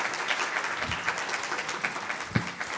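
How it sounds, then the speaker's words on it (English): Applause from an audience at an artist talk about water, a fairly even patter of many hands with a few louder individual claps standing out, no talk over it. "Let's give them a round of applause."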